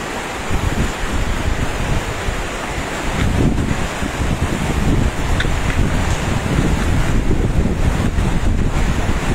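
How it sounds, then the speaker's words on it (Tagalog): Strong river current rushing steadily at a cast-net fishing spot, a dense, continuous roar of moving water mixed with wind buffeting the microphone, with no voices. "Malakas ang agos."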